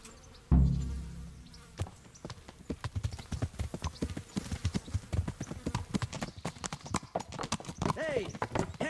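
Horse hooves clip-clop at a steady walking rhythm in the medieval game Kingdom Come: Deliverance, close and fairly loud after a low thud at the start, with insect-like buzzing and faint voices underneath.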